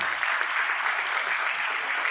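Audience applause fills a large stadium hall in New Delhi at a business seminar, a dense, steady roar of clapping from many hands, loud and continuous throughout with no talk over it.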